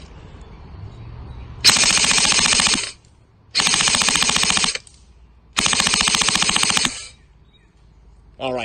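A Krytac Trident Mk2 CRB airsoft rifle running on a LiPo battery fires three long full-auto bursts, each rapid and loud at close range, with quiet gaps between them.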